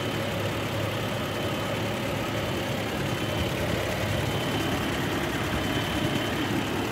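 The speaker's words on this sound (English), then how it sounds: "here is the V6 that this truck features." A 2008 Toyota Tacoma SR5 TRD Sport V6 idles steadily at close range, a continuous low rumble with a faint ticking texture and no talk over it.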